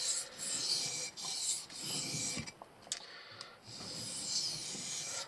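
A knife blade is drawn repeatedly across a Japanese whetstone, giving steady close rasping strokes with short pauses between passes, with no talk.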